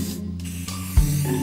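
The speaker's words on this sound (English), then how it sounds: "Spray paint." Aerosol spray paint hisses in a short burst, steady and close, with a low thump near the end as the can is handled.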